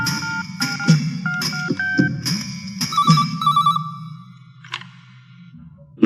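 A telephone rings out after a call is placed, with a series of distinct electronic ring bursts in quick succession over a low hum, loud and close, with no talk.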